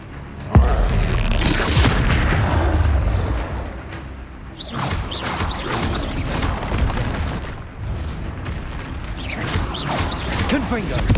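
Repeated Confringo spell explosions in the game Hogwarts Legacy, loud booms and crackling blasts recurring over rumbling combat noise, with a voice shouting over the action.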